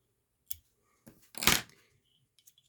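Scissors snip through a thread stem during fly tying, a brief crisp cut at close range preceded by small faint clicks and handling noises, with quiet gaps around it.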